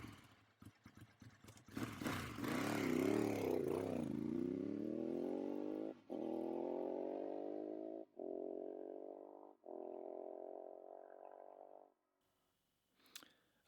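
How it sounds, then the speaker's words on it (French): A Ducati motorcycle engine fires up with clattering bursts, then revs up in a rising, loud roar before settling into a steady note. The roar cuts off in chopped segments and ends in silence with a brief metallic clink. "il fait quand même plaisir, ce petit jingle Ducati"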